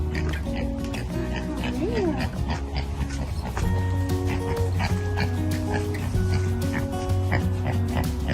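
A dog being reunited with its owners gives excited whimpers, yips and squeals over a steady background, while people talk and react nearby.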